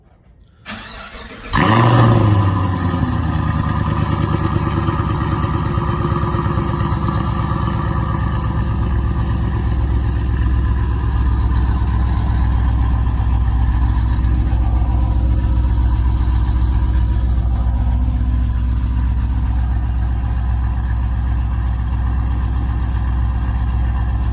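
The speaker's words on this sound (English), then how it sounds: "That was the first cold start of the Kooks exhaust system on Brett's car." After a moment of quiet, a 2017 Chevy SS cold starts, cranking and firing into a loud, deep rumble, then settling into a steady, throaty idle through Kooks headers and exhaust.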